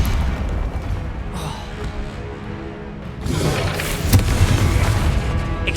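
Confringo spell blast in Hogwarts Legacy, a deep booming explosion that bursts in midway and rumbles on, following a quieter low rumble of battle.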